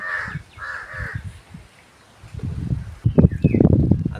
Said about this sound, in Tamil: அதனால தான் காகம் கூட கரையுது நம்மளுக்கு.